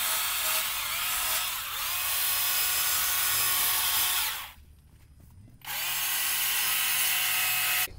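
A chainsaw carves across the top of a pumpkin, a loud, steady buzzing whine that dips briefly to a quieter idle partway through before revving back up to full cutting speed, with no talking.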